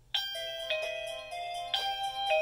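A Morecam J7 battery-powered video doorbell rings its chime twice, each a clear two-tone ding-dong, close and bright with no talking.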